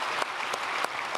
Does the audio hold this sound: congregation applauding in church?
yes